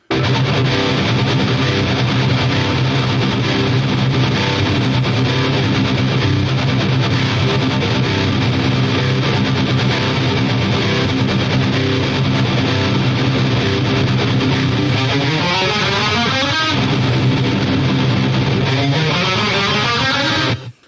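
Thick, heavily distorted metal electric guitars, recorded through cabinet impulse responses in Studio One, chug through a sustained riff, loud and dense throughout, with a brief shift in texture near the end.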